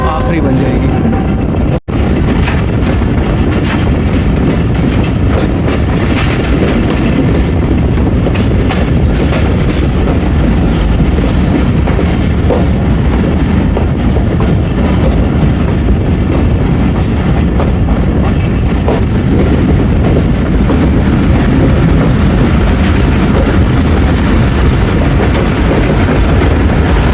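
The Baba Fareed Express passenger train rolls along the rails in a loud, continuous roar with rhythmic clickety-clack of wheels, heard from on board, steady throughout with one brief dropout near the start.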